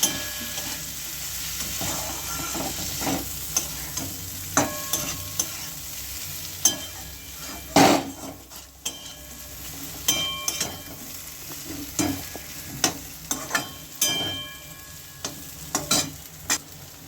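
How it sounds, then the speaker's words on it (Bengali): Spices such as chilli, cumin and coriander powder fry with a rohu fish head in a pan, a soft sizzle under frequent sharp scrapes and knocks of a spoon against the metal, close by and without speech. "এবার একটু ভালো করে কষিয়ে নেব"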